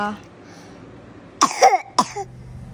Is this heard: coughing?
yes